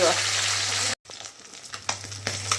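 Fish fries in a pan in a village kitchen, a steady hiss of sizzling oil that cuts out abruptly, then returns as softer crackles and pops.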